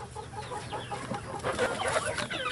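Several chickens and a puffed-up rooster in a Minnesota coop cluck and mutter in a busy, overlapping stream of short calls at moderate volume, with no talk.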